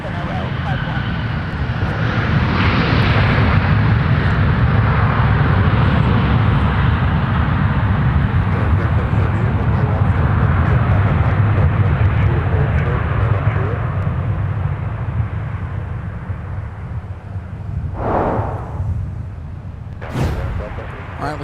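An Airbus A320 departs southbound from runway 17 at Minneapolis–St. Paul airport. Its jet engines make a loud, steady roar that holds for most of the clip and then slowly fades into the distance.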